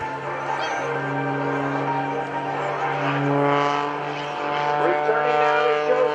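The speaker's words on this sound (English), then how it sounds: "Trying to throw Sean out of the cockpit at the bottom end of that last maneuver." A Sean Tucker aerobatic airplane performs at the 2011 Rhode Island Air National Guard airshow, its propeller engine droning steadily and rising and falling at moderate distance, while an announcer talks over it.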